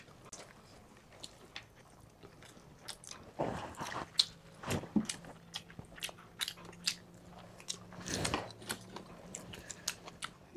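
Someone eats spicy green chicken and aloo biryani up close, with quiet wet chewing, smacking and occasional crunchy bites and squishes in an irregular rhythm.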